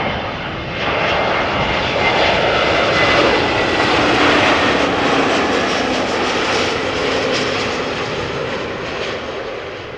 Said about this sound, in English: And also some application of reverse thrust by the sound